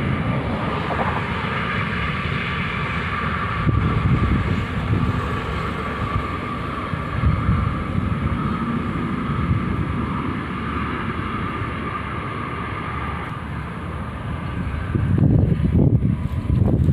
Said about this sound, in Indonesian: Anginnya bertiup kencang.